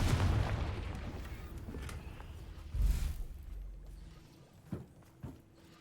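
A Confringo blasting spell goes off in Hogwarts Legacy: a loud, deep explosive burst opens and rumbles away, a second heavy boom lands near the middle, and two short sharp thuds follow as the blast dies down.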